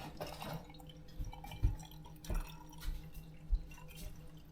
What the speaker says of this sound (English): Ooh, this kvass looks so amazing. Let's pour some in.